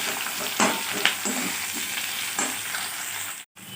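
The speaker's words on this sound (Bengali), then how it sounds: "পেঁয়াজটা মোটামুটি একটু ভাজা হয়ে গেছে" Potatoes and onion fry in a pan with a continuous bright sizzle, broken by a few louder crackles and stirring scrapes, close and without talk.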